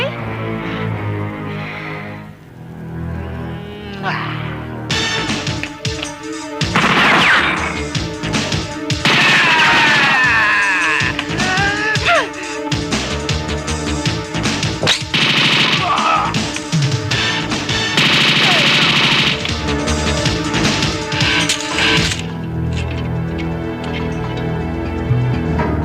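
Gunfire and explosions in an action scene from a 1991 Filipino comedy film: loud, dense bursts of shots, crashes and impacts, continuous and chaotic with a soundtrack beneath.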